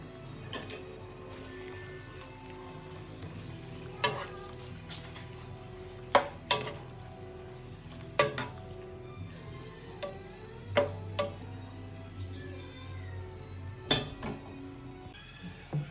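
Squid being stirred with seasonings such as pepper and salt in a pan for adobong pusit, with faint sizzling under scattered sharp clicks and scrapes of a utensil against the pan.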